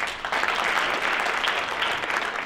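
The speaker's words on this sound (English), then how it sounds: "I want to get a quick round of applause here to actually all of our board of directors." A room full of attendees at an annual general meeting gives a brief, steady round of applause, dense and even throughout with no voices over it.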